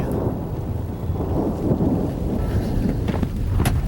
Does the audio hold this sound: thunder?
yes